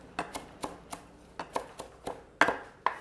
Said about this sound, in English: And then I've got the spring onions, which are little wee ones, but that's cool. Just gonna cut those ends off.